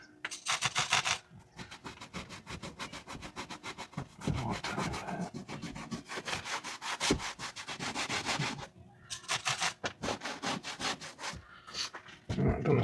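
A brush scrubs back and forth across a Sprinter campervan roof in quick rhythmic strokes, close and fairly loud, with short pauses between bursts of scrubbing.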